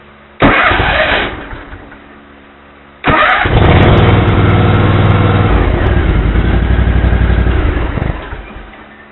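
A car engine is started using an A10 Foxpeed jump starter: a first brief crank catches and fades, then a second start fires into a loud, steady running engine that holds for several seconds.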